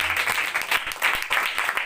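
A church congregation claps and applauds loudly in uneven bursts, with a voice faintly heard under the applause.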